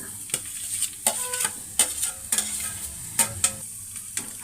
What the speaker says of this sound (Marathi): आता मी ह्याच्यामध्ये बटाटे पण परतून घेते